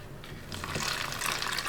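Water pours into a cold-weather ration drink pouch, a steady close splashing and trickling that builds and continues throughout without any talking.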